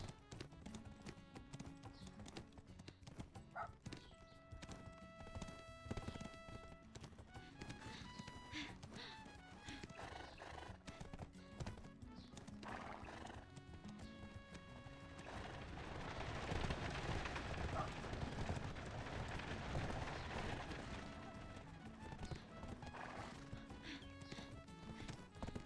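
Horse hooves pounding in a steady galloping rhythm in the Black Desert Online video game, with whinnies and game music, and a denser rumbling stretch partway through.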